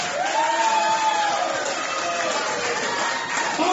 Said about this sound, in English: let's have a round of applause right now for my co-star Katrina Brown